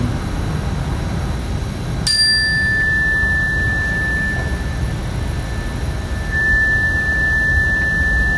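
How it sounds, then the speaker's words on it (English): A mindfulness bell is struck once with a bright metallic ding, and its pure tone rings on and slowly fades. A loud, steady rushing noise sits underneath throughout. "Ring the bell again and again, just listening to the beginning, middle, and end sound of the chime."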